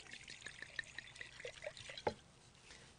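Dry red wine trickles and splashes softly as it is poured for a thin mop sauce, a faint, close liquid stream with small drips and no talking.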